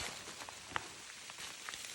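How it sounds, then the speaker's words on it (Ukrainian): Steady rain falls in an autumn forest, a soft continuous hiss with scattered drip ticks, fairly faint and with no one speaking. "Ну, дощ щось не припиняється."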